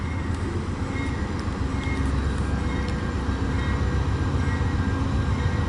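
An eastbound Amtrak passenger train rolls past at steady volume, a continuous low rumble and rail noise with faint clicks, no talking.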